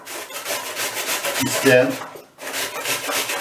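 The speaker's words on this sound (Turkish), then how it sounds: "Ben soğanı rendeliyorum." An onion grated by hand in a kitchen while cooking barbunya pilaki, giving a steady rasping scrape that runs continuously with a brief pause near the end, fairly close and moderately loud.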